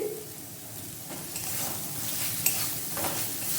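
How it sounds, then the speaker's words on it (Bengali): Mutton curry masala sautéing in a pan over medium heat, a continuous close sizzle with soft stirring scrapes and an occasional utensil knock, no talk. "1 মিনিট ধরে এটা ভালোভাবে কষিয়ে নিতে হবে।"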